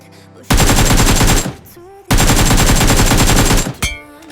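Two loud bursts of automatic gunfire from the mobile battle royale game BGMI (PUBG Mobile), each a rapid rattling stream lasting about a second, separated by a short gap, with faint game sounds before and after.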